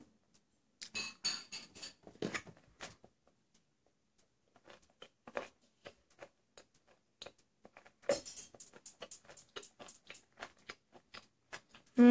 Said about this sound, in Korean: 이렇게 생긴 걸 먹어보도록 하겠습니다